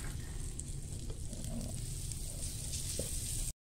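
Garlic sautés in butter in a pan, a steady close crackling sizzle that holds evenly for a few seconds and then cuts off abruptly.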